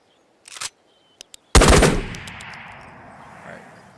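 An XM250 machine gun fires at armor in the Ghosts of Tabor video game: a few faint clicks, then one sharp, loud burst of gunfire that rings out and decays slowly.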